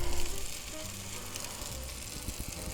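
Bread frying in a pan for a breakfast patty melt sizzles steadily, with a broad, even hiss that is a little louder at the start, and soft scrapes near the end.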